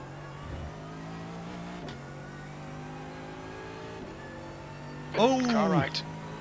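A race car in the iRacing sim at Le Mans drones steadily under team radio chatter, then another car's engine swells loud and close with a rising, revving whine as it passes on the right before fading.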